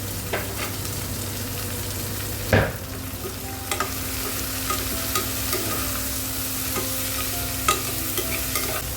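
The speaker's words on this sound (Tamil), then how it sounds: "இப்போ வெஜிடபிள்ஸ்லாம் ஆட் பண்ணிக்கலாம். பச்சை பட்டாணி, கேரட்டு, பீன்ஸ்." Green peas, carrot and beans stir-fried in a pan for millet khichdi, a steady low sizzle with a louder scrape of the spoon partway through and lighter clinks after, no talking.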